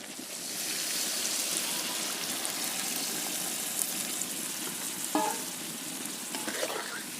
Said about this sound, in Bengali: পরিমাণ মতন জল দিয়ে এখন ঝোলটা দিয়ে দিয়ে নামিয়ে নিই